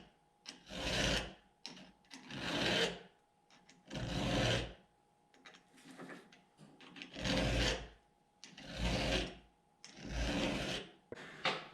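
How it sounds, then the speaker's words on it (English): A file is pushed by hand across a chainsaw chain tooth in steady, evenly spaced rasping strokes, about seven loud close scrapes with short pauses between them and no talking. "once you get a nice sharp edge on that tooth, you can use your file to slide the chain back and move on to the next one"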